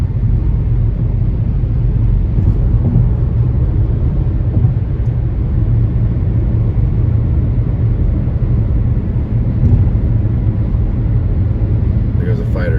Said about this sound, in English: There goes a fighter jet.